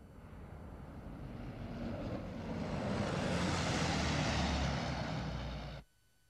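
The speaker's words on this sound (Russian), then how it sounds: "В том же году бомбардировщики со свастикой на борту направились к Британии." A German bomber flies past. Its engine drone swells over a few seconds, holds loud and broad, then cuts off abruptly near the end.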